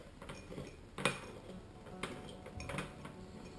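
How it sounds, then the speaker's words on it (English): A metal spoon stirs sugar and cinnamon in a small bowl, making a few faint clinks and scrapes at an irregular pace against a quiet background. "Then you can mix it up with a spoon."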